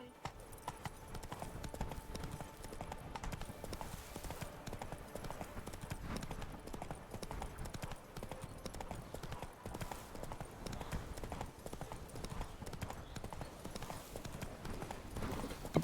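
A horse gallops in The Witcher 3 video game, its hooves drumming a fast, continuous clip-clop rhythm at close range from start to finish.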